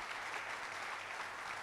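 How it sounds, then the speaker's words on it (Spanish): Church congregation applauding during a sermon, an even, continuous patter of many hands heard from a moderate distance, fairly soft and unbroken. "Dale un aplauso fuerte a Dios"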